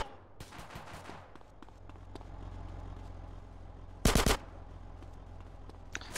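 Gunfire from the video game GTA San Andreas: a dense, crackling burst of rapid shots over steady game background noise, with a sharp louder volley near the end and a single short crack after it.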